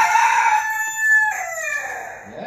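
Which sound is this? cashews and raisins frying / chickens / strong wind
chickens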